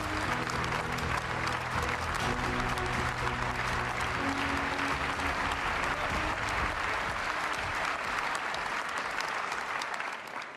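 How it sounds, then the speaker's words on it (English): Sustained, dense applause from a large congress audience welcoming Ursula von der Leyen, President of the European Commission, at the European People's Party congress in Valencia, loud and steady throughout with a faint crowd murmur. "join me in giving her a warm and enthusiastic welcome with a big round of applause"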